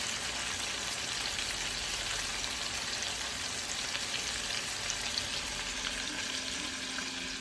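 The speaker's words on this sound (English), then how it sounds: "you can see my shrimp is cooking and the fish is done" Shrimp and fish cook together in a pan, giving a steady, even frying crackle that hisses without a break, close and moderately loud, with no talking.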